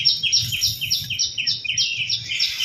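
Small birds chirp in quick, high, repeated twitters close by, outdoors where scattered rice has been put out for them, with a faint low rumble underneath.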